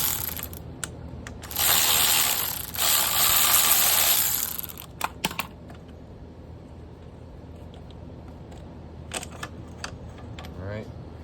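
A Milwaukee power tool works loose a motorcycle shock bolt with a couple of close, loud buzzing bursts of a few seconds each, followed by quieter clicks and clanks of handling.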